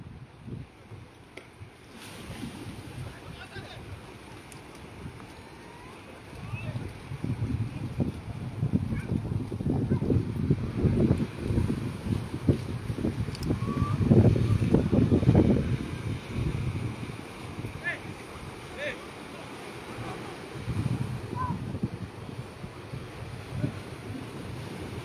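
A boat rides out in the middle of the sea off San Pedro, its low engine rumble and wind buffeting the microphone swelling and easing over a steady hiss, with no talk.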